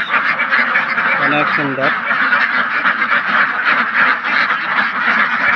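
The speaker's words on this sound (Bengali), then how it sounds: "দেখেন প্রচুর হাঁস" Many ducks quack together at a duck farm, a dense, continuous chorus filling the whole stretch at close range, with a person speaking briefly over the flock.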